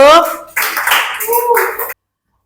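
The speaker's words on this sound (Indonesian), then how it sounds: "Tepuk tangan untuk kelompok 1" A classroom of students applauds together for a presenting group, a burst of dense clapping that follows a brief spoken line and lasts over a second before stopping abruptly.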